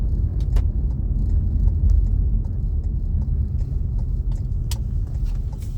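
A car drives along a road, heard from inside as a steady, loud low rumble of engine and tires with occasional faint clicks and rattles.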